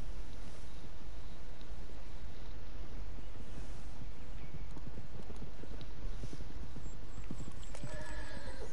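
Horse hooves clip-clop steadily in Red Dead Redemption 2, with whinnies and a faint wind bed over a dense, continuous outdoor ambience.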